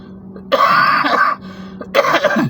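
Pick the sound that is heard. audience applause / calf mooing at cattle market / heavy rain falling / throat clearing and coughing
throat clearing and coughing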